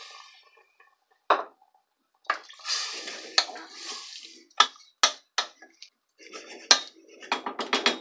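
Water is poured into a cooking pot for a beef and artichoke stew with potatoes, splashing and clinking in short separate bursts with quiet gaps between them.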